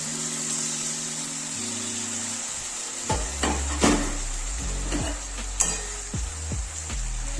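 Chicken added to mustard oil over fried onions sizzles steadily in the pan, with stirring knocks and scrapes joining partway through over a low background hum, and no talking.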